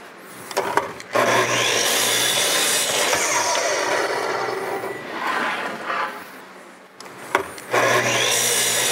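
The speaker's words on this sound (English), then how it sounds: "We'll run a couple cuts on the miter saw," Miter saw cutting wood while powered by an inverter, two loud whining cuts that spin up and wind down, separated by brief pauses.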